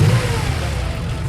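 A Kia K9 3.3 turbo AWD sedan accelerating, a steady low engine drone with road noise heard from inside the cabin, brief and fairly loud.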